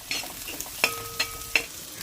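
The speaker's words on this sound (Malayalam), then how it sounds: "അപ്പോൾ ഇടയ്ക്കിടയ്ക്കൊക്കെ ഒന്നും കൂടി ഇളക്കി കൊടുക്കുക" Curry with curry leaves fries in a pan as a utensil stirs it, bright sizzling broken by three sharp metallic scrapes and taps of the spoon against the pan, close and clear with no talking.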